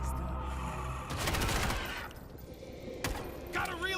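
Bursts of gunfire ring out in the World War Z shooter game, a dense volley of shots followed by a sharp crack and further scattered shots, loud and close, mixed with game noise.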